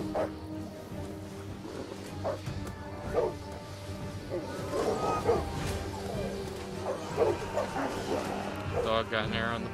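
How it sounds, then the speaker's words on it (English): In the Total War: Attila strategy game, a dog yelps and whimpers after an arrow strikes it, the cries rising amid battle noise while someone talks over the action throughout. "Dog got an arrow in the butt. Poor dog."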